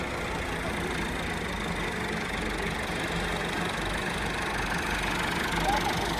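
Tractor engines run steadily at high load, two behind and one in front, hauling a heavily laden, stuck trailer with double tyres loaded with moonji grass. The roar is continuous, loud and close, with faint voices in the background.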